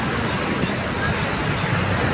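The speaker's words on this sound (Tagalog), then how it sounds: "Grabe lalaki kasi ng truck." Dense road traffic with a large truck passing close, a steady low rumble of engines and tyres filling the whole stretch, with faint voices murmuring underneath.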